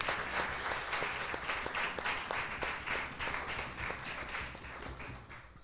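A church congregation at a Pentecost vigil clapping together, a moderately distant, fairly rhythmic round of hand claps that swells and then gradually fades over several seconds.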